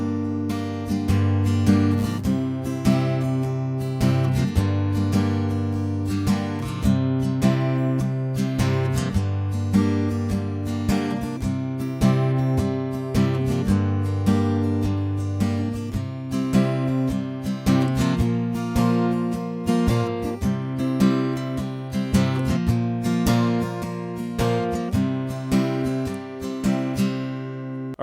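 Acoustic guitar strumming the bridge chords of a song, steady rhythmic strokes ringing on without pause, moderately quiet and close, no voice.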